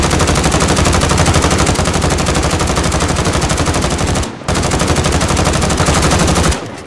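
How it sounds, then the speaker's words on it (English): Rapid automatic gunfire from a Modern Warfare gun game match rattles on loud and close, one continuous volley with a brief break near the middle before a final burst cuts off. "Get kills with each weapon to win. Shoot this."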